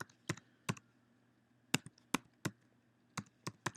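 Keystrokes on a computer keyboard, about eight sharp separate clicks in irregular rhythm, close and fairly quiet over a low steady hum, with no talking.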